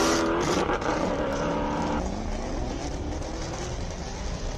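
A Hendricks-powered BMW Z4 race car runs at the Simola hillclimb, its loud engine roaring close by and then dropping in pitch as it pulls away, continuous throughout with no talk over it.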